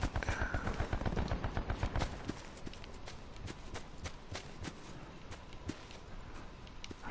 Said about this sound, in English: Gunfire ahead.